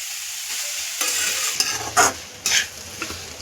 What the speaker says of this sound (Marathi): हा भात टाकला की व्यवस्थित आपण हे सगळं परतून घ्यायचं